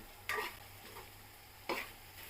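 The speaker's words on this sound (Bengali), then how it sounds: "আর ভেজে সয়া কার্পগুলো দেওয়ার ভালো করে আবার মশলার সাথে মিশিয়ে দিতে হবে" A spoon stirs fried soya chunks and potatoes with spices in a pan over a faint steady sizzle, with two distinct scraping strokes about a second apart, close and fairly quiet, no voices.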